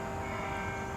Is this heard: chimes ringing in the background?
yes